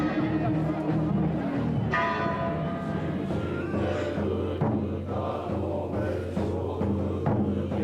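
Church bells ringing during a nighttime ceremony in Mexico, struck tones sounding repeatedly amid a dense crowd murmur and voices.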